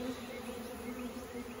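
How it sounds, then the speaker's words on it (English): Orphaned honey bees, foraging workers without a queen, buzz in a dense, continuous drone close by, with no voices. "a bunch of foraging bees"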